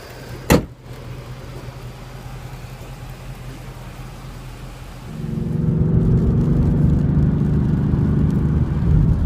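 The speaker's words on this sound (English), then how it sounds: "So the Mustang GT accelerates very quickly." A Ford Mustang GT with a 6-speed manual on a test drive: a sharp click, steady low cabin hum, then the engine swells into a loud, sustained accelerating roar.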